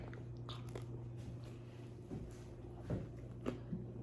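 A few quiet bites and chews of raisin bread, soft crunches scattered over a steady low background hum, close up.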